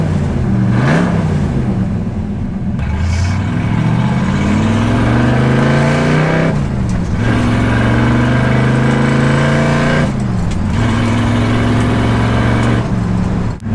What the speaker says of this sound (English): You can hear the exhaust straight out the side slightly behind you, and that incredible 289 cubic inch V8